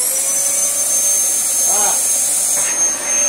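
A Dyson DC14 vacuum cleaner runs after being left outside all winter, its brush roll seized. The motor gives a loud, steady high-pitched whine, and a person makes a brief vocal sound partway through.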